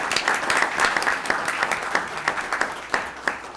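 A city council meeting audience applauds, a dense close patter of clapping that continues steadily and thins toward the end, with no speech over it.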